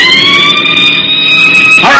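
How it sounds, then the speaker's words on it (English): A loud police car siren wails steadily up close, its tone holding high before sliding down sharply at the end, with an engine rumbling beneath. "Cut the siren."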